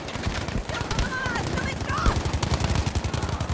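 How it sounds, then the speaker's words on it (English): Rapid bursts of 40 cal machine-gun fire in a war video game rattle on continuously, dense and loud, with a voice briefly audible over the shooting. "shooting at me with 40 cal"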